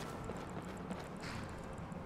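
Horse hooves clip-clopping in Skyrim, a muffled, steady rhythm of hoofbeats at moderate distance under a continuous background hum.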